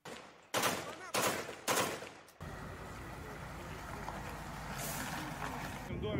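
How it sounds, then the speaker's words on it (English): Gunfire in a firefight inside a building during urban combat: three loud, sharp bursts in quick succession, then a sustained rumbling wash of noise, heard close and without talk. "Вот сейчас идет перестрелка внутри здания морпехи."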